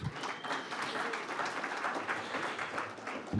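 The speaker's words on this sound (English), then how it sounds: "Round of applause for the local boy, please." Audience applause for a local Olympic swimming champion at a red meat industry forum, a steady wash of many hands clapping at moderate distance, lasting a few seconds and ending abruptly.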